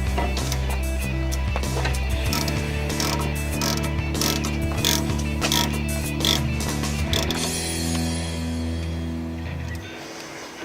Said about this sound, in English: you can just put that nut on there and tighten it up with your 12mm socket